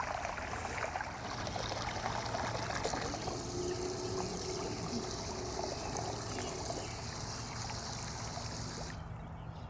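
A Beatbot Sora 70 robotic pool cleaner jetting water from its top in an outdoor pool full of leaves, producing a steady rushing, splashing flow that runs continuously and fairly quietly throughout.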